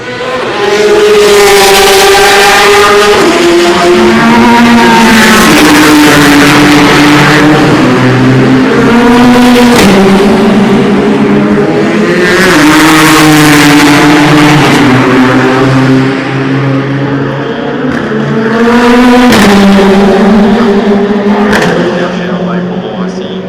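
Ligier race cars scream past during Le Mans 24 Hours qualifying, loud high-revving engines rising and falling through gear changes in repeated close passes, with commentary over the top.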